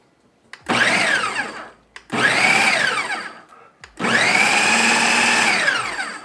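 A blender purees duck liver for pâté in three loud whirring bursts, the motor pitch climbing and sagging under load with brief pauses between; the final run is longest and steadiest.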